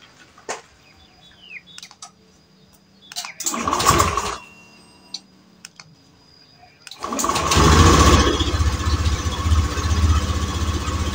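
A Honda Beat ESP scooter engine starts around the four-second mark with a brief crank and catch, then later fires up and settles into a steady, loud cold idle, preceded by small clicks.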